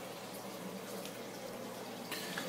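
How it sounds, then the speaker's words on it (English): Water pours steadily down a 1-inch overflow pipe in a 60-gallon acrylic aquarium, a continuous close rushing and gurgling flow with no pause. "The water drains in there, and there's a 1-inch pipe going down."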